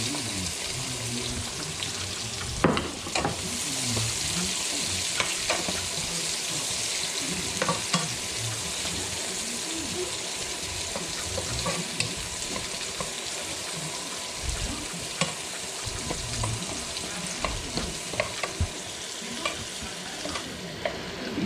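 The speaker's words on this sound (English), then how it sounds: "And then you add the onion." Onion fries in a pan with a constant, loud sizzle while a utensil stirs and scrapes through it, throwing out irregular clinks and scrapes nearby for over twenty seconds.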